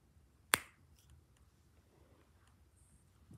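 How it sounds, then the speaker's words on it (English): A single sharp finger snap cracks out close and clear, then fades into a quiet room with only faint background noise. "Okay, I'm gonna snap my fingers."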